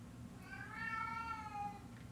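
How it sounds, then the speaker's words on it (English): A house cat meows insistently while watching birds through a back window, one drawn-out, rising and falling cry heard close and clear against a quiet room, with no talking. "My cat is watching birds out the back window, and he's letting me know he's upset that he can't catch them."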